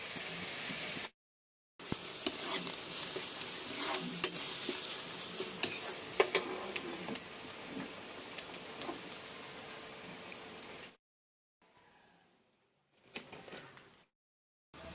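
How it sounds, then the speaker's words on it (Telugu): Onions fry in a pan for veg manchurian, a steady close sizzle with crackles and the scrape of stirring. Brief gaps of near silence break the sound, and it fades out near the end. "ఇవైతే కలుపుకొని బాగా బ్రౌన్ కలర్ వచ్చేదాకా వేయించుకుందాం."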